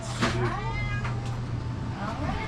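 Cats meow up close inside a campground store, with several loud, drawn-out cries overlapping the hum of the room.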